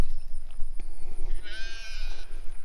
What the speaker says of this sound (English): The sheep are going nuts.